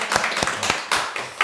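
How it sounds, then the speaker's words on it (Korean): A church congregation at a Sunday service claps in welcome for a visiting brother from Alaska, heard as a short burst of sharp, separate claps at moderate volume. "박수로 환영하시죠"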